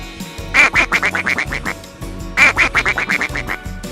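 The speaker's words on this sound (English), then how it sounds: "Duck, duck." A duck quacks in two rapid bursts of sharp, nasal quacks, each burst a string of about eight calls, loud and close over light background music.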